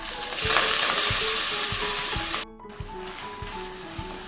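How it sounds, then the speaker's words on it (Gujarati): Chopped fenugreek leaves dropped into hot oil, a loud bright sizzle that drops off abruptly, leaving a quieter frying hiss with regular stirring ticks and clicks. "તેલ ગરમ થાય એટલે આપણે સમારેલી મેથી એડ કરી દઈએ."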